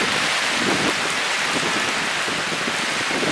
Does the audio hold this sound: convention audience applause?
no